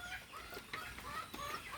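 Three chickens cluck softly in a farmyard, quick overlapping calls close by and fairly quiet, with no talk over them.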